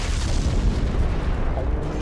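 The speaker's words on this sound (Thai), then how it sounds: "เพื่อต้องระเบิดทิ้ง" A loud, rumbling explosion from the video game Prototype 2 fills the whole stretch with a sustained, booming roar.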